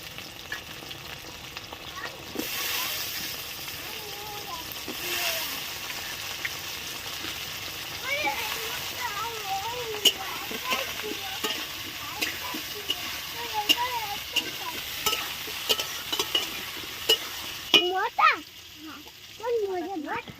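Cut potatoes dropped into hot oil for an egg masala curry, sizzling steadily with stirring scrapes and occasional louder clatters, while a person talks over the frying.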